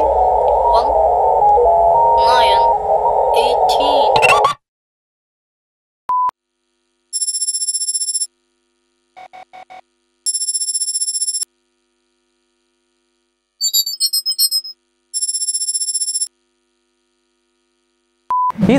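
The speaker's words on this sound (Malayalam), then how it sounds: "നിങ്ങൾ ഇപ്പോൾ കേൾക്കാൻ പോകുന്നത് ഒരു സ്പൈ കോഡാണ്. വളരെ സീക്രട്ട് ആയിട്ട് ഒരു മിലിറ്ററി ബേസിൽ നിന്ന് കിട്ടിയിരിക്കുന്ന ഒരു സ്പൈ കോഡാണ്." Tones of a secret spy code signal said to come from a military base: short bursts of electronic beeps and tone patterns separated by silences, following a loud noisy radio-like passage at the start.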